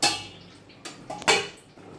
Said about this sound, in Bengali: একটা ঢাকা দিয়ে দেবো